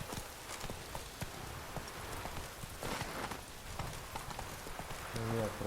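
Hooves of the horse Roach clip-clop at a steady walking rhythm in The Witcher 3: Wild Hunt, a continuous patter of footfalls over a noisy rain-like background, with a voice speaking near the end.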